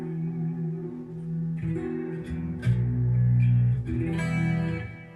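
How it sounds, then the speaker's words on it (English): Clean digital electric guitar tone with reverb and delay, sustained chords ringing out with echoing tails and no talk. "I use a clean sound like this kind of thing with the digital, like the reverb and delay and stuff"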